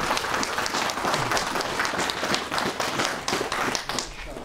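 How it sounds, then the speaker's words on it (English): Steady applause from a crowd at an outdoor residence hall groundbreaking ceremony, honoring the mayor, with dense continuous clapping throughout. "Big round of applause for Mayor Stewart"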